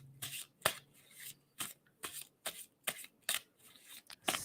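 Tarot cards are shuffled with brisk riffling snaps, roughly nine separate bursts at an even pace, heard close up and soft with no voices.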